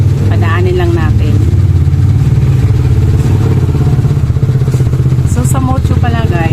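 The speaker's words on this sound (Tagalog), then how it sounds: "Ayan, maingay yung motor." A loud, noisy motorcycle engine puttering close by with a dense, rattling drone, heard under a person talking.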